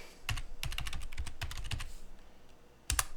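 A password typed on a computer keyboard, a quick close run of crisp key clicks followed by a brief pause and a final pair of keystrokes.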